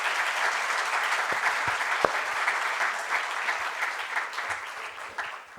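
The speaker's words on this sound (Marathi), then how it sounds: "आपण एकदा जोरदार टाळ्या वाजवून सरांचे आभार मानूयात." A lecture audience breaks into loud, continuous clapping to thank the speaker, with a few sharper individual claps standing out before the applause thins toward the end.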